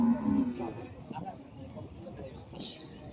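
A bull at a busy city cattle market lets out a low moo near the start, while people talk and haggle around it and the crowd murmurs in the background.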